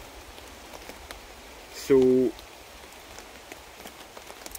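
Rain falling in the woods at a bushcraft camp, a soft continuous patter of drops on leaves and tarp, with someone briefly speaking one word over it.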